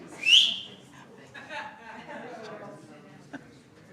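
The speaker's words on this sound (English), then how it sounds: "Uh-oh, you got the bus driver whistle." A short, shrill whistle sounds once at the start to get attention, then a room of people at a board of trustees meeting murmurs and chatters in the background.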